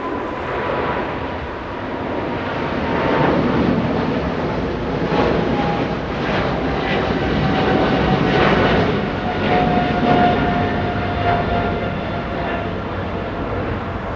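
Japan Airlines Boeing 777 departing Los Angeles International for Tokyo Haneda, a loud sustained jet roar with a whining tone, rising and holding as it climbs past, with some wind buffeting.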